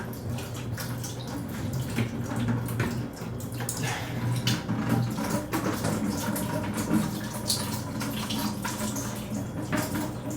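Water pours out of an open garage fire sprinkler pipe, a continuous splashing gush with irregular spatters, steady and moderately loud at close range.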